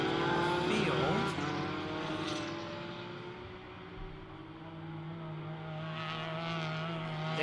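A big green Ferrari race car runs on a circuit through the Kryptos section toward the hairpin, its engine holding a strong sustained drone with shifting pitch. The sound fades slightly midway, then swells again.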